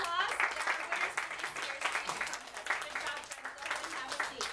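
Parents at a school merit assembly give students another round of applause, lively crowd clapping with voices mixed in throughout.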